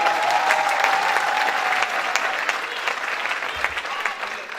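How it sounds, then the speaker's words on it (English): A large audience claps steadily and loudly at a Haitian Heritage Month celebration in Miramar, Florida, a dense sustained round of applause with no talk over it. "Give him a great round of applause"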